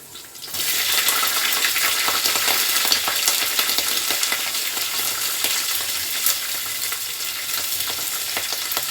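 Bay leaf and cinnamon fry loudly in hot oil, a dense steady sizzle from start to finish with faint stirring scrapes beneath, close and continuous with no voices.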